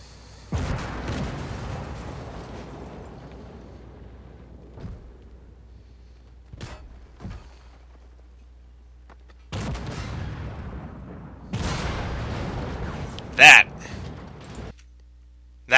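Tank combat in the video game Armored Warfare, with a player's tank taking a shell hit: several heavy, sharp blasts separated by quieter stretches, and a person talking in between.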